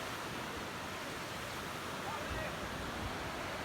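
A waterfall gives a broad, constant rushing roar of falling water that fills the whole short stretch at an even level, with no break and no talk.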